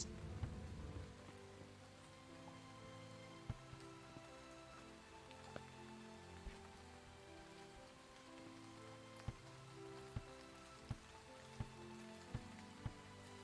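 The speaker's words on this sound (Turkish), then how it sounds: "Mağaradan çıkarken fark ettim ki yağmur yağıyordu." Steady rain falls outside a cave in a survival video game, a continuous hiss with scattered sharp drip-like ticks, heard alone with no talk.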